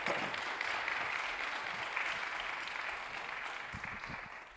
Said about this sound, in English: please clap your hands for Captain Marquez.